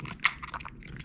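A cat crunches dry kibble from a food puzzle toy, a quick run of small close crunches and bites with one sharper crack near the start, fairly quiet throughout.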